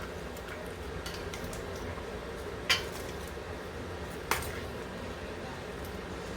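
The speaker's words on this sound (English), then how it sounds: "Stir everything together." A spoon stirs beef stew with carrots and potatoes in a pot, mostly a soft steady scrape with two sharp metallic clinks against the pot's side.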